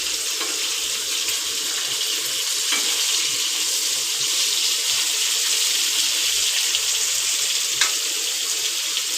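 Bangda (Indian mackerel) fish fries in hot oil with a steady, close, dense hiss and sizzle throughout, broken by a few small pops and crackles, and no voices.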